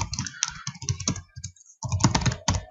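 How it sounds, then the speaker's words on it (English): Typing on a computer keyboard in a code editor: close, quick bursts of key clicks in uneven rhythm, with short pauses between runs of keystrokes. "I'm just going to get this typed up"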